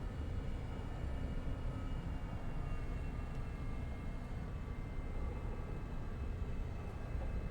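Default aircraft engine in the X-Plane 11 flight simulator: a steady, unbroken engine drone with a low rumble and faint whine, constant in loudness throughout.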